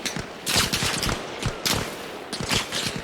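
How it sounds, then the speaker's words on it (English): Rapid overlapping gunfire from several shooters in a video game, sharp repeated cracks in clustered bursts, loud and close with no talking. "There's definitely more than one person shooting at me right now."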